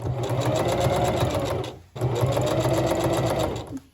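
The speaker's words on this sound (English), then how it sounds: "I can sew over this white part of the sleeve here, like my casing, that's fine, and that's what I will be doing" A sewing machine stitches along a wedding gown sleeve in two close, steady runs with a brief pause between, its rapid needle rhythm clear and loud with no talking.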